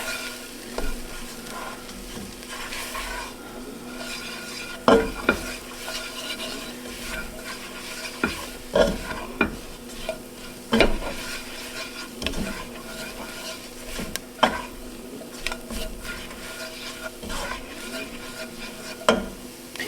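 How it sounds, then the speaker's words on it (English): A utensil stirs flour through hot fat in a soup pot, giving a soft ongoing sizzle broken by irregular scraping strokes and occasional sharper knocks against the pot, close by and without talk. "we're going to go ahead and add in 2 tablespoons of flour, and we are going to stir this for about a minute"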